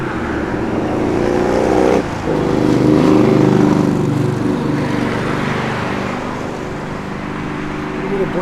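A 1971 Pontiac GTO engine runs with a steady, throaty rumble while driving on the road, its low drone swelling slightly and then easing off, with someone talking over it.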